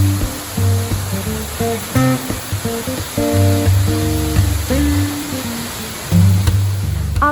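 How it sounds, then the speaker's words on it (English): A mountain stream rushes steadily past a water-powered prayer wheel in Bhutan, making a constant loud wash of water with some lower tonal hum mixed in; no talking. "the prayer wheel actually moves by the force of the water"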